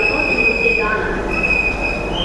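A Dhaka Metro Rail train at Uttara North terminal station gives a loud, sustained metallic wheel squeal over a steady low rumble, heard close up for the whole stretch.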